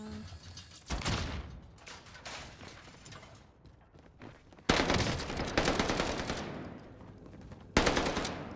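Automatic and rapid gunfire in Call of Duty Warzone on Rebirth Island, with loud bursts at about one second, around five seconds and near the end, alternating with quieter stretches of distant shooting.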